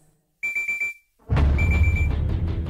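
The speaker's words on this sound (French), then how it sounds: "l'alarme incendie se met à hurler" A fire alarm in a smoke-filled caravan sounds four rapid, piercing beeps, then after a short pause blares continuously over loud, rumbling background noise.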